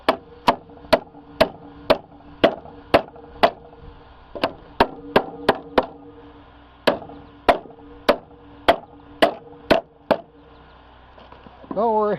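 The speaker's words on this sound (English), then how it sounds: "Hammer." Hammer blows strike a floor joist at close range, a long run of sharp, evenly spaced whacks with a couple of brief pauses, loud and alone, ending with a short voice.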